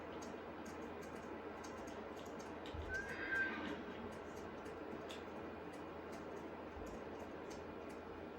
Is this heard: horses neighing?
yes